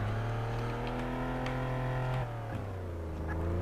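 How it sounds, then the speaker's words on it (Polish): Car engine in the police game Flashing Lights, running steadily with a rising rev, then a brief dip and shift before settling again, loud and close with no talking. "Musimy włączyć silnik."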